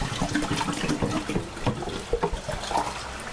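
Water pours and splashes into a glass, a continuous gurgling stream with bubbly bursts, close and fairly loud, with no one talking.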